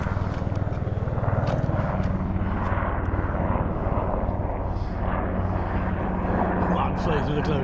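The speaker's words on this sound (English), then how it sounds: "Helicopters up. Helicopter's on top" A helicopter flies overhead during a road trip through the North Wales mountains near Dinorwic quarry. Its rotor and engine thrum sits steady and loud across the whole stretch, with a steady drone underneath, while people talk over it.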